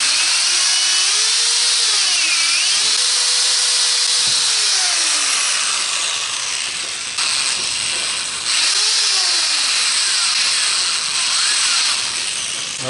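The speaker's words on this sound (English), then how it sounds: "you want to drill some pilot holes" A power drill bores pilot holes into the door of a Masterbuilt electric smoker, its motor whine rising and falling in short bursts with pauses between, close and loud.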